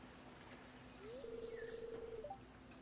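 Parrot on Ginger Island in the video game Stardew Valley, a single drawn-out, steady tonal call with a short rising flick at the end, faint over a quiet ambient hum.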